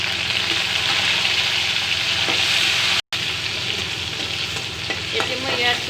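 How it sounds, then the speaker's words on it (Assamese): Chopped onion frying in a pan for a fish curry with cauliflower and tomato, a loud, continuous, close sizzle with soft stirring scrapes and a split-second gap partway through; no speech. "এতিয়া মই ইয়াৰ মাজতে দি দিম পিঁয়াজ কুটি।"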